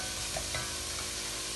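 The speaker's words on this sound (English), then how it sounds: "Stir it." Lentil soup ingredients stirred in a pot over heat, a continuous close sizzle with soft scraping movement, no talking.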